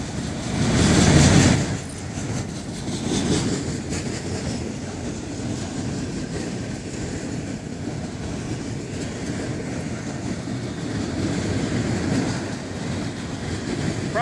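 An FEC freight train's cars roll past on the rails at close range, with a steady, loud rumble and clatter of wheels that holds throughout and swells briefly near the start.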